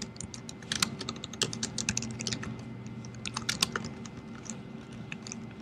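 Rapid, irregular keystrokes rattle on a computer keyboard as code is typed, close and fairly quiet, with brief pauses between bursts and no talking.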